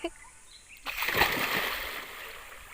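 A child leaps into river water during a swimming lesson, making one loud splash followed by sloshing and spray that fades over about two seconds, with voices around.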